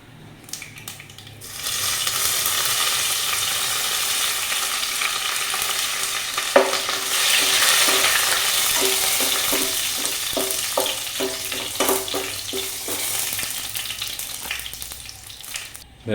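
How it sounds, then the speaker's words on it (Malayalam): Curry leaves fry in hot oil after mustard seeds, giving a loud, close, steady sizzle with scattered crackles and stirring scrapes throughout. "കടുക് പൊട്ടിക്കഴിഞ്ഞ് അതിലേക്ക് വേപ്പില ഇടുക."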